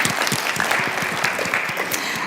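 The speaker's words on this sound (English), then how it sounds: "Please, round of applause." An audience at a game jam community presentation claps, a dense, lively burst of many hands that fills the short moment without any speech.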